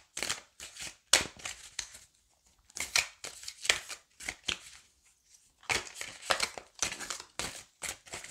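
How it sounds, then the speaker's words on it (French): Oracle cards are shuffled and cut by hand, a series of crisp close riffling and slapping bursts in quick irregular rhythm, with a short quiet pause midway. "On va prendre deux cartes, on va faire une coupe."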